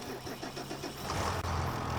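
Tractor engine in Farming Simulator 25 cranking with a rapid rhythmic chug, then catching and settling into a steady loud idle, heard close with no talking.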